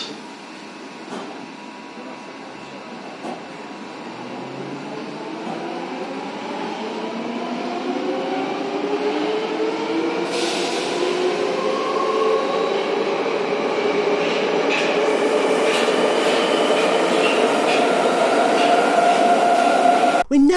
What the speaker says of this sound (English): And now we go on to a modernised old metro train.